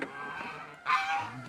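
A young goose gives two short, nasal honking calls close by, the second a bit louder, against quiet indoor background.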